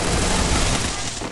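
Dense, continuous gunfire from the battle-royale video game Free Fire during a 4v4 tournament match, a loud unbroken burst of rapid shots filling the short moment with no clear talk.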